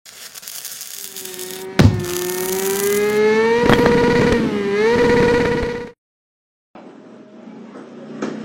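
A Honda CBR250RR motorcycle engine fitted with a quickshifter idles loudly up close, then revs repeatedly with rising and falling pitch before cutting off abruptly into silence, followed by faint background noise.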